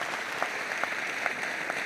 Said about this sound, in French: Est-ce qu'on peut applaudir pour nous-mêmes?